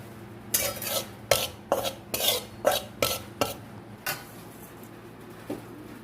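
A spoon stirs gram flour roasting in a pan, scraping in about eight rhythmic strokes that are close and moderately loud before tapering off, with faint background hum between them.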